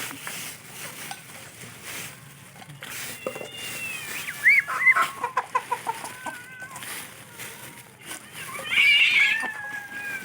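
Cats meow and caterwaul while fighting outdoors, with a burst of harsh, rapid yowls in the middle and another loud squall near the end, close and loud against a faint rural backdrop.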